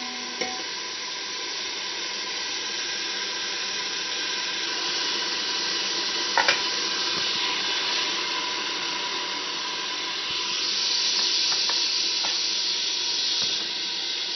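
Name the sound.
stirring and mixing pumpkin chana dal in a pan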